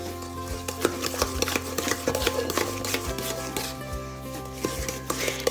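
Chocolate chip cookie dough being stirred with a wooden spoon in a sturdy bowl, a series of dull thuds and scraping knocks at an uneven rhythm, close and fairly quiet, with soft background music.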